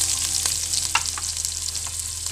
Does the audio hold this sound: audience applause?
no